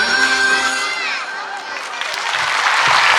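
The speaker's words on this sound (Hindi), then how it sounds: "जोरदार तालियां।" Singing of Vande Mataram and music give way to a burst of enthusiastic applause, with clapping and cheering from a crowd swelling through the second half.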